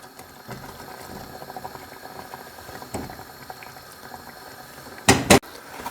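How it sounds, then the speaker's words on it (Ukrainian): Potatoes simmer in water for a French vichyssoise cream soup, giving a soft continuous bubbling with faint clicks and a sharp clatter near the end. "Додаємо воду і готуємо до готовності картоплі."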